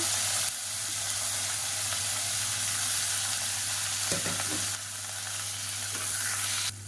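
Long-sliced large onions sizzle in a pan of hot oil with spices and curry leaves, a continuous close frying hiss over a low steady hum, with a brief clatter of stirring midway and no talking.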